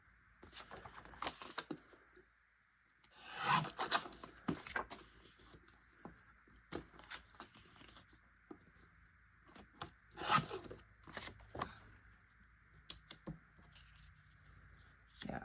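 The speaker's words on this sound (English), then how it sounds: "I'm gonna trim my photo here." A photo gets trimmed for a baseball-themed scrapbook layout, with faint scattered cutting and paper scraping sounds, brief rustles and taps close by in a quiet room.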